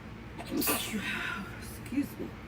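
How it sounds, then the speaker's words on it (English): A single sneeze from a person, indoors at a craft table, fairly close and clear. "I gotta sneeze again."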